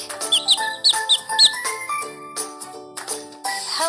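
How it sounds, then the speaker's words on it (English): A cartoon chick from a kids' animal puzzle game gives a quick run of high, thin chirps, roughly five in a row, over light tinkling game music. "Chick."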